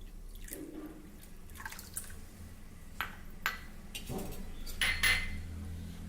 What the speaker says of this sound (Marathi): इथे एका भांड्यामध्ये आपल्याला अडीच वाटी पाणी घ्यायचं आहे